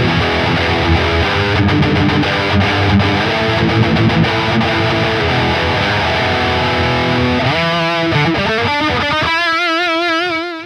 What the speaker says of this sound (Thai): เดี๋ยวเราไปลองฟังเสียงแตกดีกว่าว่าจะเป็นยังไงเริ่มจากพิกอัพตัวล่างก่อนนะครับ